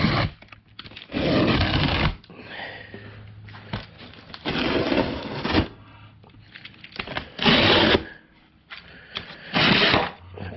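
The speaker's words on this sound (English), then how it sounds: "let's go ahead and open this up. Got this box knife here." Box knife slicing open a cardboard display box for a tool chest, heard as repeated loud, rough tearing strokes of a second or so each, separated by quieter handling noise.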